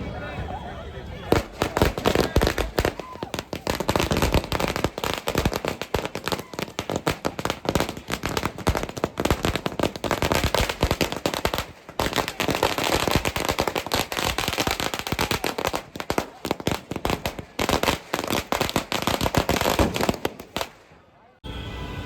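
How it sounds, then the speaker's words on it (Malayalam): Firecrackers burst in Mumbai in rapid, dense crackling volleys that continue almost nonstop, loud and sharp, with brief pauses between strings. "ആ രീതിയിലാണ് പടക്കം അവിടെ പൊട്ടിച്ചുകൊണ്ടിരിക്കുന്നത്"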